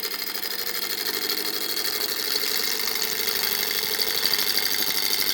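A wood lathe turning a bowl at around 750 rpm while a gouge takes a big cut: a steady, close motor hum with a continuous cutting whir and faint rhythmic chatter.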